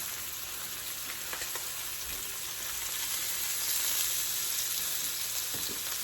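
Chicken breasts with prosciutto sizzle steadily in a hot pan with olive oil, a continuous bright hiss that holds evenly throughout with faint crackles and a few soft utensil taps.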